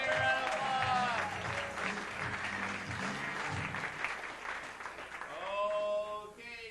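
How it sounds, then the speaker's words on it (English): An audience at an improv comedy competition, the 1996 World Championships in Kansas City, gives sustained, dense applause, with a few tonal sounds rising above the clapping at the start and near the end. "Give me a round of applause."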